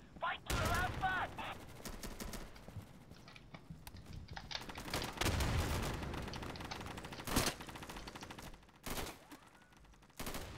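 Gunfire in the Insurgency shooter on a Siege push map: rapid automatic bursts and single shots, some close and loud and others more distant, with keyboard clicking and brief voice chatter mixed in.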